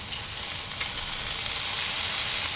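Mustard paste sizzles steadily in hot oil while being sautéed for a small-fish curry, a continuous bright crackling hiss that grows slightly louder, heard alone without voices.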